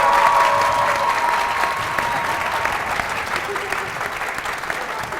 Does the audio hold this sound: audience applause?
yes